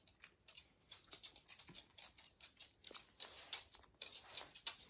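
A 14-year-old dog moves around close by and pants in quick, soft, rhythmic breaths, mixed with light pattering steps, steady and fairly faint throughout.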